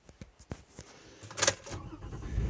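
A van engine starting after a few close clicks and clunks, the ignition turning over and catching into a low rumble near the end, quiet and without talking.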